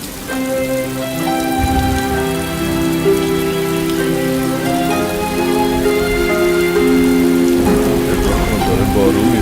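Steady rain pours down continuously, loud and close, over a sustained tonal musical background.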